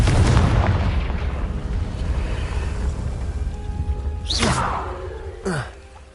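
Confringo explosive fire spell cast in Hogwarts Legacy: a loud booming blast opens, then two sharp crackling bursts follow near the end, one after another, with no talk over them.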